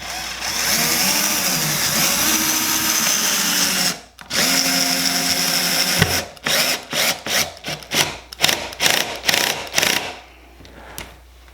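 A power drill tapering out a hole while hanging an airplane on a wall, first a sustained loud whine for several seconds, then a brief stop and a run of short, choppy bursts and ratcheting pulses, close up.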